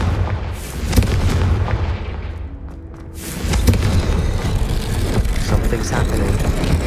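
The Confringo explosive spell in Hogwarts Legacy lands as a series of deep booms and thuds amid dense, loud game combat noise, with a voice speaking over it.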